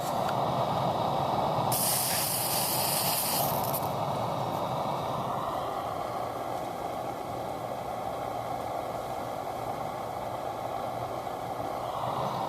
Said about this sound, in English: I'm going to give these a little squirt of some freeze spray